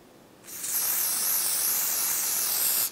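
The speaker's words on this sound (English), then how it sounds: "I'm just spraying right into the roots of the hair" A steady hiss of hair spray from an aerosol can sprayed into the roots of a wig's hair, starting after a short pause, running continuously for over two seconds and then cutting off.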